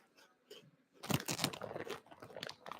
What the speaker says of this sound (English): Does it sound dead loud on this one? I'm chewing.